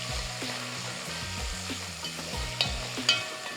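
Two small onions with salt sautéing in a pan, a soft steady sizzle with repeated scraping stir strokes and a couple of sharper clinks near the end.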